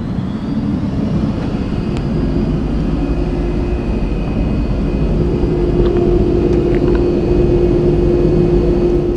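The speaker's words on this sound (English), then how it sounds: "the interesting thing about a turbine engine in a car is they sound like a turbine engine in an aircraft." Chrysler turbine-powered jet car engine running with a steady aircraft-like whine and deep rumble, continuous and fairly loud, holding an even tone throughout.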